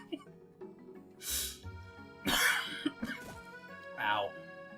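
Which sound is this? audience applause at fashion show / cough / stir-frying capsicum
cough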